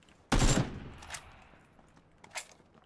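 A single sharp gunshot in a PUBG-style shooter match, fired at building windows, with a long decaying echo and two fainter distant shots following.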